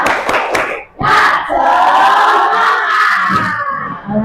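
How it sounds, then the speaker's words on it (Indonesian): A classroom of students in an Islamic religious education lesson shouts a spirited group chant with sharp claps, loud and close, the voices rising together in a rhythmic cheer that swells and dips over a few seconds. "Tepuk semangat."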